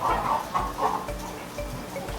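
Chickens clucking in a poultry farm house, a dense chorus of overlapping hen calls with rhythmic low thumps underneath, steady and fairly close throughout.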